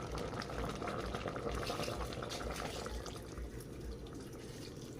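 A pot of coconut milk bubbling at a steady boil, with a continuous dense burbling and popping, close up and fairly quiet, with no voices.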